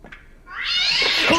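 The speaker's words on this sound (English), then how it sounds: "It was just a cat." A cat lets out a drawn-out, rising yowl that grows louder and holds, close by, after a brief quiet start.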